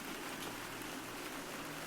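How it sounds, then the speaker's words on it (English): Heavy rain pouring down in a steady, dense hiss with no breaks, close and full, nothing else audible over it. "The rain comes down harder"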